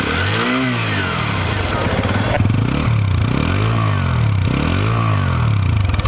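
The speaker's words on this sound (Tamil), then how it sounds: "நெக்ஸ்ட் இந்த பைக்கோட engine sound and exhaust sound பார்க்கலாம் வாங்க." TVS Apache RTR 180 2V BS6 motorcycle engine and exhaust, loud and close, idling then revved in repeated rising-and-falling blips with a steady throbbing exhaust note throughout.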